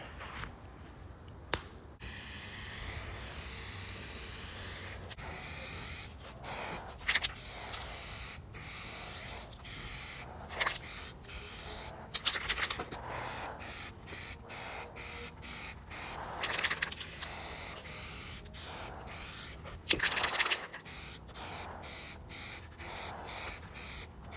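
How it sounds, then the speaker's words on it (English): Short hissing bursts of primer filler sprayed from a spray can onto a Ford F350 Superduty truck bumper repeat at a close, irregular rhythm, with sharp clicks of the can's nozzle between passes. "Now I'm going to hit it with a primer filler."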